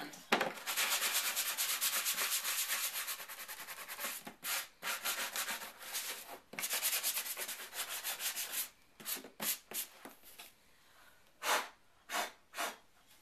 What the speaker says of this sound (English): And all I'm going to do is give them a light sand.